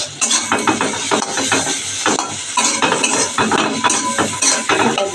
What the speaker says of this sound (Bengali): এটাতে ভালো করে কষাবো।